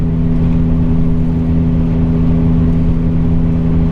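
A Ford Econoline van's V10 engine pulls up a mountain grade in overdrive, a loud, steady low hum with a constant drone and faint road noise, unbroken and without voices.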